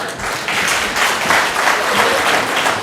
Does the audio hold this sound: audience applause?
yes